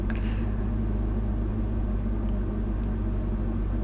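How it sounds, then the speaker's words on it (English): A steady low hum and whoosh of the air conditioning fan runs continuously inside the cabin of an Ultima RS car, with no voices. "You can hear the air conditioning fan, that's that noise in the background."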